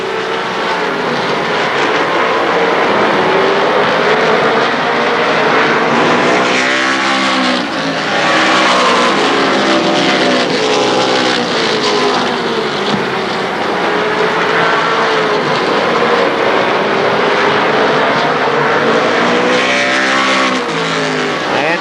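Race cars roar around Shadybowl Speedway during the Buckeye Fall Classic, a loud continuous engine drone with rising and falling pitch as the cars pass, steady throughout.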